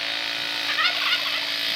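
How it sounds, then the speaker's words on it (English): Turkey gobbling and geese calling in the grounds of an old mill near Damerham in the New Forest, a steady outdoor chorus of fowl with a louder burst of gobbles midway. "Turkey and some geese."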